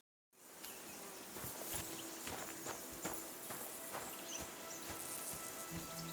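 Horse hooves clip-clop along steadily in Kingdom Come: Deliverance II, a faint, even walking rhythm with soft ambient insect buzz around it.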